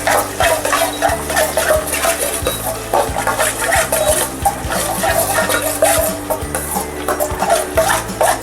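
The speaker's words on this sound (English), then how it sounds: "Then add garlic and fry it nicely." Garlic and cumin seeds fry in a pan for jeera aloo with a steady dense sizzle, while a spoon scrapes and stirs against the pan in irregular knocks close by.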